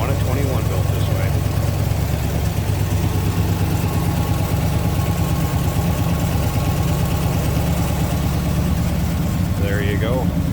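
A 1963 Studebaker Avanti R-2 with a 4-speed manual sits idling, its engine making a steady, even low rumble that holds throughout, with brief bits of a voice near the start and end.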